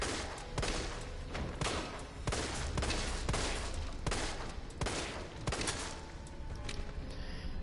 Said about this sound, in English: we're just going to go ahead and take some pot shots at him with the pistol